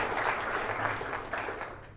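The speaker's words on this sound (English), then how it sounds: "Give him a round of applause." A steady wash of audience applause at a motivational success talk, a dense, even patter of clapping that carries on throughout without any speech over it.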